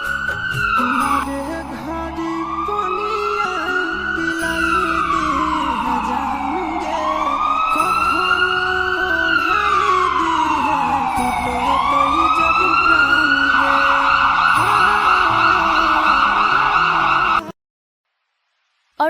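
Cartoon ambulance siren wails in loud repeated rising and falling sweeps over steady music, a vehicle rushing along, then cuts off abruptly near the end.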